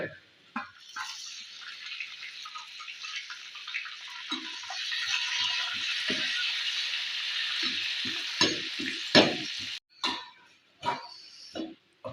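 Dried red chillies and curry leaves fry in hot oil for a Kerala-style jackfruit stir-fry, a steady crackling sizzle that swells midway, with occasional stirring clinks and knocks near the end.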